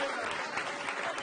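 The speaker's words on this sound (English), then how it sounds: "let's applaud again her service to this community." A short burst of crowd applause at a mayoral victory speech in Cincinnati, dense and even, heard at moderate distance, with a voice faintly mixed in.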